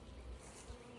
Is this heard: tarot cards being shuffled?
no